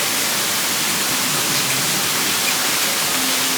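An artificial waterfall at Dollywood's Glacier Ridge display pours in a constant, even hiss and rush of falling water, loud and close, with no talking.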